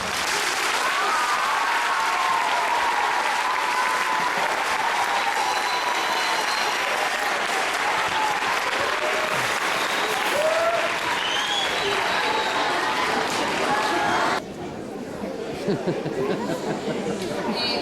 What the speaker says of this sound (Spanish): merecedes un forte aplauso